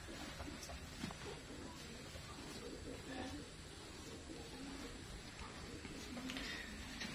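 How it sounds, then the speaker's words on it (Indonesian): Soft, low pigeon coos repeat now and then over a steady background hiss, with faint voices mixed in. "Dan kita kedatangan merpati yang lama."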